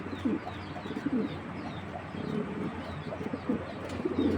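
Tournament racing pigeons coo in soft repeated phrases close by, several low murmuring calls under a steady background hum, with faint chirps from other birds.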